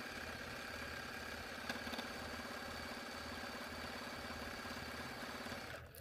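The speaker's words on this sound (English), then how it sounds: "And you'll sew these strips onto your rows using your 1/4 inch seam allowance." A sewing machine runs steadily while stitching sashing strips onto rows of a quilt-as-you-go quilt, an even, continuous mechanical whir at moderate level that stops abruptly just before the end.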